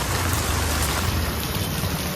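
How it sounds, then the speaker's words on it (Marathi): Heavy rain pours down in a dense, constant roar of drops hitting surfaces, loud and unbroken throughout. "लय जोरात पाऊस चालू आहे"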